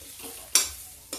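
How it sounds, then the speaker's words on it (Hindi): Potatoes and onions fry in a pan for pea nimona, giving a low steady sizzle broken by two sharp scraping stirs, the first louder than the second. "उसको इसी के साथ हम थोड़ा सा भून लेते हैं।"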